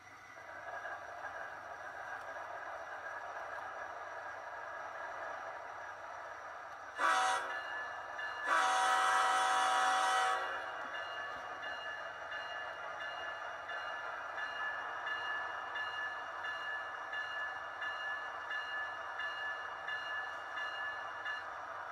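Model train locomotive sounds triggered with a DCC throttle, a steady mechanical running drone with a brief horn blast near the middle, moderately close and alone.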